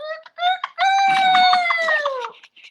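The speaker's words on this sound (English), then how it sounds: "I was like, they really do got roosters." A rooster crows loudly and close by, one long drawn-out cock-a-doodle-doo preceded by a couple of short clucks.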